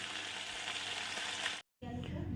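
Small fish frying in hot mustard oil in a village kitchen, a loud continuous close sizzle that cuts out briefly near the end and then resumes more quietly.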